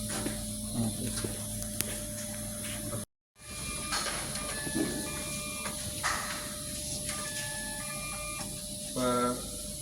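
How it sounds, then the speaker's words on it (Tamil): A label printer printing date labels for vegetables runs with a steady mechanical hum and faint repeating whirs and clicks. There is a short break midway and a buzzing burst near the end, all over a noisy background. "இப்போ வந்து எல்லாம் அந்த பிரிண்ட் பண்ணுறது எல்லாம் இப்போ சரியாக இருக்குது"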